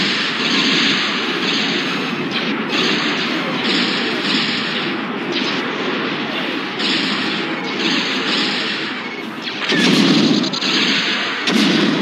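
Rapid, dense blasts from a gun turret in the Star Wars: Shadows of the Empire asteroid chase, loud and relentless with booming thumps layered over a constant roaring background, no pauses between bursts.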